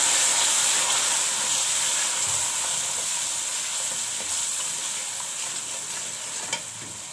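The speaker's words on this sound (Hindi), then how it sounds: "मसाले को मैंने अच्छी तरह से 2 से 3 मिनट भून लिया है" Spices fry in a pan for chana pulao, giving a steady bright sizzle and hiss close by that slowly fades a little, with faint stirring scrapes and no talking.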